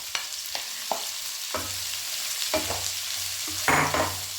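Finely chopped shallots sautéing in oil in a pan, a steady bright sizzle punctuated by a series of distinct spatula scrapes and taps, closer and louder toward the end, no talk.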